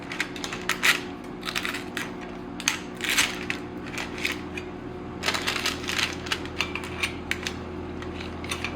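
Brittle brown sugar butterscotch candy squares being cut in a candy pan, giving a series of crisp cracking and snapping clicks in irregular bursts, close and fairly loud over a steady low background hum, with no talking.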